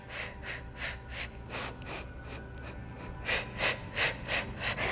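Steady paced breathing during a Pilates-style exercise, about ten soft, breathy inhale and exhale pulses in an even rhythm, close to the microphone over a low background hum.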